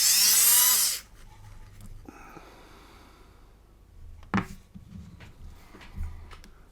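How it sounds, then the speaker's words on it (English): A small power drill bores a hole in the back of a lamp on a 1/32 scale Tempest Mk V model kit, one loud high whine for about a second, then quiet handling clicks and taps. "I'm just going to drill a hole in the back of the lamp to represent the bulb."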